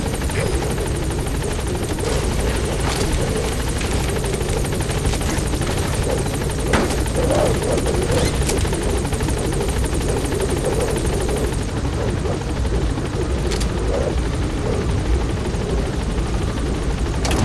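A support helicopter in the game Metal Gear Solid 5 lifts off with a loud, steady rotor roar and engine whine that fills the whole stretch, dense and continuous with faint chatter beneath.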